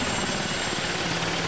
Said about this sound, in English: they called out a helicopter to dump water on it.